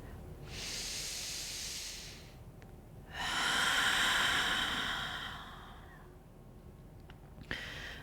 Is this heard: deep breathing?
yes